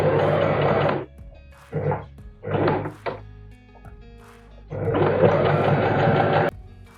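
A sewing machine stitches a seam on a leather trench coat in two loud runs, one short and one longer, with quieter thumps and handling of the heavy material between them.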